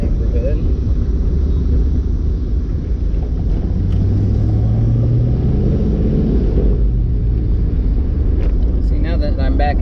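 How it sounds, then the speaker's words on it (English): A V8-swapped Mazda MX-5 Miata cruises through a neighborhood, its engine a loud, constant low rumble with wind buffeting, heard from on board. "Not everybody enjoys the fun of a V8 in a Miata"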